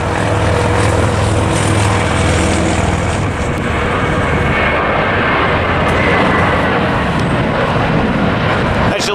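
An American Airlines plane takes off at LAX, its jet engines roaring loud and steady throughout with a broad rushing drone and a low rumble.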